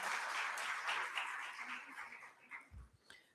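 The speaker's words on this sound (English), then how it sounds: "Let's give a warm round of applause to all the winning journals." Applause from an award ceremony crowd honoring winning journals: a dense wash of clapping that gradually thins and fades over a few seconds, ending with a faint low thump.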